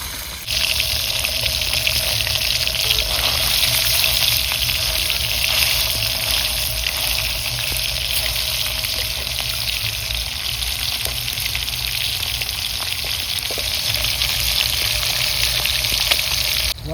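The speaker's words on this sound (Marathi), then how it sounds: "आता आई आपली मस्तपैकी घेते तळून मित्रांनो तिकडं" Paneer frying in hot oil in a pan, a loud continuous hiss and crackle of sizzling close up, steady throughout with no voices.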